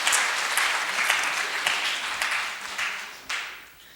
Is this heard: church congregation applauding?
yes